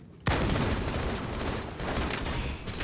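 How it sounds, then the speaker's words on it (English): Gunfire in Halo 2: Anniversary breaks out abruptly after a brief quiet moment, then continues as a dense, loud, close stream of rapid shots for the rest of the clip. "I'm getting shot a lot"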